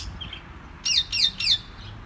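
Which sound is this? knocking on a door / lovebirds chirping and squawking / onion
lovebirds chirping and squawking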